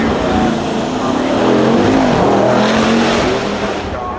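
Aston Martin Valour with a V12 engine accelerating, a loud, sustained low engine note rising in pitch across the run, mixed with broadband roar and some background voices.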